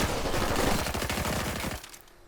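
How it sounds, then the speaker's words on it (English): Rapid rifle fire in the video game Fortnite, a dense close burst of repeated shots lasting nearly two seconds before cutting off, with no talk over it. "And I'm using my rifle."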